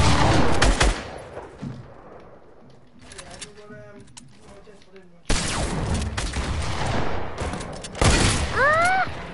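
Bursts of video game gunfire crackle loudly and rapidly near the start and again across the second half, with heavy repeated shots and booms, while a person talks in the quieter middle stretch.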